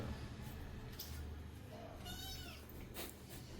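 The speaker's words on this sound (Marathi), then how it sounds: "मांजराचा आवाज येतोय" A domestic cat in a home kitchen gives a short rising meow near the end, fairly faint over a low hum and a quiet voice in the room.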